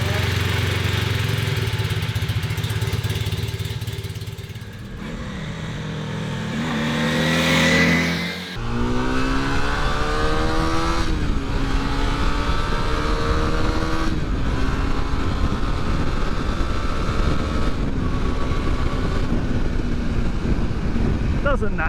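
A rebuilt Honda CB250 Super Dream motorcycle engine idles with a gritty rumble, then revs up sharply, drops, and settles into a loud, steady rising drone with climbing harmonics.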